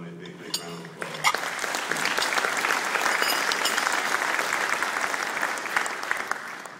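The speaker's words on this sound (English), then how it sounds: "Can we please give both of them a big, big round of applause?" Audience applause at an investors' forum breakfast, beginning after a short moment of speech and swelling into sustained, even clapping from a large room that carries on to the end.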